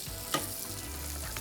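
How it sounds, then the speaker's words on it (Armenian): Vegetables sizzle and fry steadily in a pan during turkey fillet cooking, a close, continuous crackle with a brief stir partway through and no talking. "Վերցնենք մյուս տավան, որի մեջ տապակենք արդեն"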